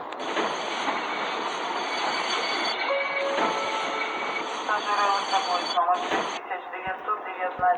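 A long-distance passenger train bound from Chernivtsi toward Uzhhorod pulls out of the station, a loud, steady rumble of rolling wagons with squealing wheels and metallic creaks, rhythmic clunks growing toward the end.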